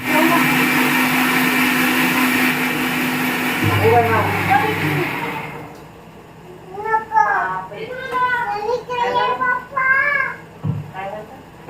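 A mixer grinder whirs loudly for about five seconds, then cuts off and voices begin talking nearby; the mixer caught fire.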